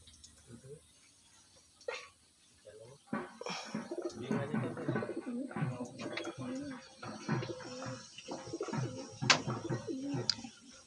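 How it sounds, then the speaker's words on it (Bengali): Domestic pigeons in a home loft coo repeatedly in soft, rolling bursts, fairly close and quiet, with a few sharper flutters and faint background noise. "সব কটা পায়রাই ভালো ভালো পায়রা"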